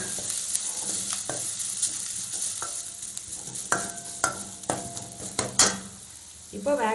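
Grated coconut and onion stirred with a spatula in a hot pan for a raw banana stir-fry, a soft sizzle under repeated close scrapes and taps of metal on the pan.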